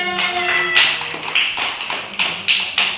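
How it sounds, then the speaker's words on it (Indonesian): Children in a primary-school lesson clap for a classmate, a voice trailing off first, then a handful of spaced, slightly uneven claps close by. "Tepuk tangan buat temannya"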